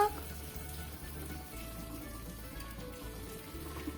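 Boiled salted water with orange peel is poured off from a pot, making a steady rushing splash that runs continuously from start to finish.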